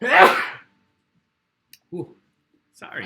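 A single sharp, close sneeze at the start, followed by near silence, a small click and brief talk afterward.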